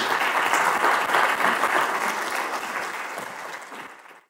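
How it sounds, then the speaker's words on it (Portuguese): Audience applause at a poetry reading in a national museum, a dense sustained clapping from a crowd that carries steadily and then fades toward the end. "Uma salva de palmas ao domingo"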